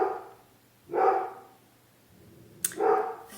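A dog barks twice, with a pause of about two seconds between the barks. Both are fairly close and clear, against a quiet background with no talking.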